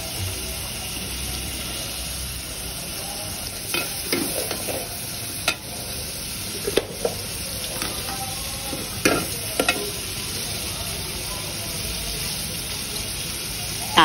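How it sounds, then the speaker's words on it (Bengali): Chopped onions fry in a pan for a Bengali prawn curry with bottle gourd peel, a constant close sizzle with intermittent scraping and stirring clatter from a utensil. "পেঁয়াজ কুচি দিয়ে আমি আরেকটু ভেজে নেব।"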